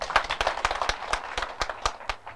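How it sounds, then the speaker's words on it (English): At a Sunday confirmation Mass, a congregation claps for the children: a short run of separate, fairly close claps in an uneven rhythm, with no one speaking over them. "Let us clap for them."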